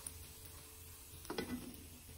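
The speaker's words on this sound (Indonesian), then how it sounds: "Goreng lumpianya sih bentar aja, cepat garing" Beef spring rolls frying in a pan of oil, a soft continuous sizzle with a brief scrape or clatter of spatulas midway, quiet and close.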